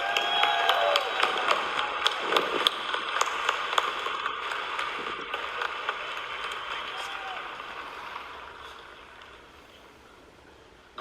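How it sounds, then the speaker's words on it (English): A convention audience applauds and cheers its keynote speaker, Henry Cervantes, in El Paso, Texas: dense, sustained clapping from a large crowd with scattered cheers, gradually thinning and fading toward the end. "applause to our keynote speaker for our convention today"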